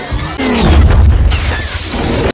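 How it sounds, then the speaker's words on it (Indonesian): Loud, dense action-film battle noise from a war sci-fi film: drone gunfire, a heavy boom and crashing blasts with continuous rumble, brief bursts layered over a sustained roar. "Tembakan demi tembakan pun diluncurkan dari drone pengintai milik Harlan."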